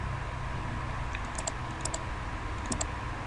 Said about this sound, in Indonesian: Lalu kita tekan tombol E pada keyboard.